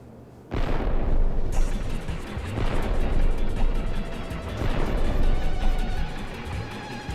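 Loud, rolling explosions and booming impacts from incoming fire in Paper Mario: The Thousand Year Door, a dense continuous barrage that starts abruptly after a brief quiet moment and surges in several waves.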